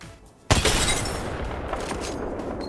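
A big weapon in the video game Apex Legends fires a loud, booming shot, and the blast rings out and trails off over a couple of seconds after a quiet start.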